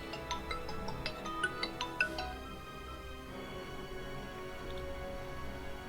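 A mobile phone rings with an incoming call: a short run of bright melodic tones, then a steadier sustained tone, fairly quiet against a calm indoor room.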